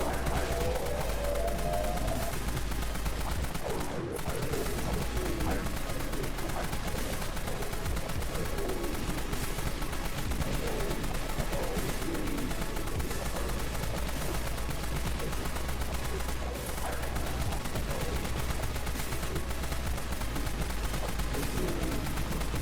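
XAK assault rifle fired in Dead Frontier, a dense, loud, steady stream of automatic gunshots that barely lets up, with one brief dip early on, under faint game sounds.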